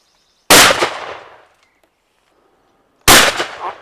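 Two sharp, loud shotgun blasts at clay targets, about two and a half seconds apart, each with a booming decay outdoors.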